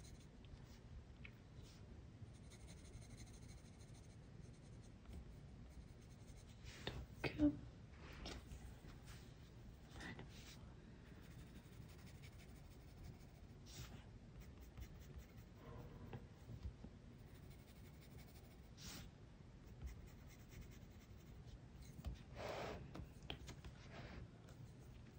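Faint, soft scratching of a Disney princess drawing being coloured on paper, with steady strokes and a few slightly louder scrapes, alone and without talk.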